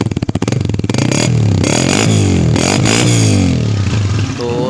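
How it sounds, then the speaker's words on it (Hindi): A 2020 Honda CG 125 motorcycle engine runs close by and loud with a light tappet tick, starting with rapid firing pulses and then a steady, throbbing drone. "तो टैपर की हल्की हल्की जो टिक टिक की टैपर की आवाज़ है वो आ रही है अभी।"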